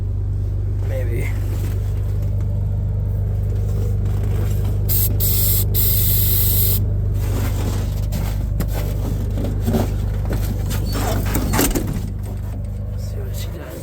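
Aerosol can of starting fluid sprayed in freezing cold, 12 below, at a John Deere-powered 24,000 slasher, a steady hiss sustained under a continuous low engine-like rumble, with a brief sharper burst partway through.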